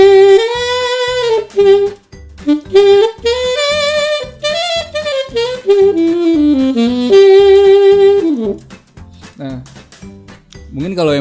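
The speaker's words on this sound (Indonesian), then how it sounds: "Ini saksofon China." A Chinese-made saxophone plays a melodic line of sustained and stepping notes, with rhythmic percussive clicks running underneath, loud and close.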